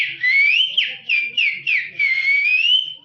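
A man whistles an imitation of a koel call: long sliding whistles broken by a few quick, sharp repeated notes, loud and close, with faint murmuring underneath.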